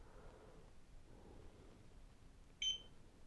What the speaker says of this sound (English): Now we need to press the sync button until we hear the beep.